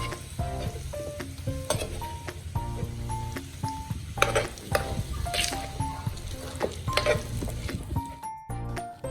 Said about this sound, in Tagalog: Ipapry lang natin to hanggang sa maluto ang loob ng patatas